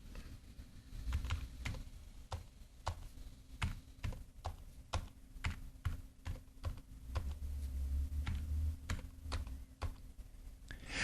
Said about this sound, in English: Now we've typed in the chords for the first 8 bars of the song